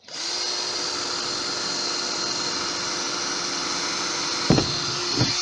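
A power drill whines at a steady, high pitch without pause, close by, boring fine holes in a pond, with a couple of brief knocks near the end.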